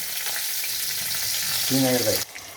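Raisins and cashews fry in hot oil and ghee, giving a continuous close sizzle; midway a short tonal voice or hum rises over the frying before the sound drops off sharply.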